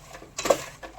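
Peanuts being stirred into hot jaggery syrup in a pan while peanut chikki is made, giving a few soft scraping, clinking strokes with a louder one in the middle, close and quiet, with no talking.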